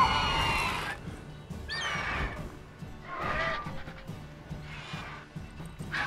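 A horse in The Witcher 3: Wild Hunt neighs and whinnies repeatedly in loud, sweeping bursts spread over several seconds, with game ambience in between.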